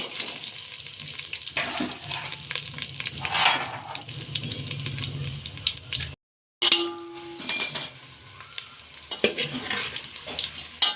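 Patra rolls frying in hot oil with white sesame seeds and curry leaves, a steady close sizzle broken by stirring scrapes, with a brief gap midway before the frying resumes.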